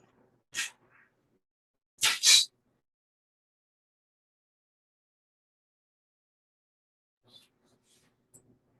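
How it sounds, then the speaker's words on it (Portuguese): A single sneeze from a lecturer during an online constitutional law class, a short sharp breath burst followed about a second and a half later by the stronger sneeze, then near silence. "Vou aqui ter que espirrar."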